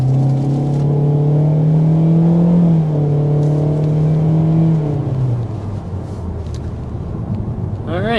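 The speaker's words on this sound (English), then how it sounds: "there's a quick little acceleration to start things off with this 25 Soul" 2025 Kia Soul under hard acceleration, its engine drone rising steadily in pitch, then dropping as it shifts near three and five seconds and easing off, with a voice briefly near the end.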